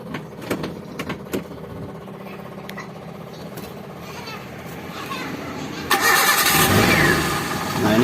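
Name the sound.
car engine starting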